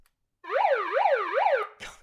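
An audience imitates a siren with three rising-and-falling wails in a steady rhythm, followed by a short burst of noise.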